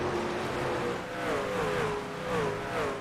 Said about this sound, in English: I can hear some trucks shifting in the corners